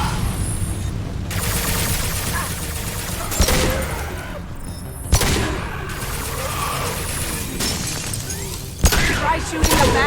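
Sci-fi gunfire in Mass Effect 2, a dense rattle of shots and impacts with several heavier cracks and bursts over a constant rumbling backdrop, loud and close.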